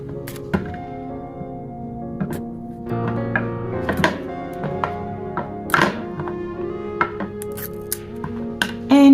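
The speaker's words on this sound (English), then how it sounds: "this is me cutting my aloe vera" An aloe vera leaf is sliced with a knife on a board, with a series of irregular soft thunks and taps at close range, some sharper cuts spread through a quiet background.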